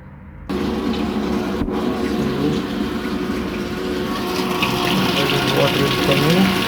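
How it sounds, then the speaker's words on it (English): Water gushing into a new Panasonic washing machine as it fills, starting abruptly after a quiet moment and then flowing steadily and loudly with a pump-like rush. "Water is coming."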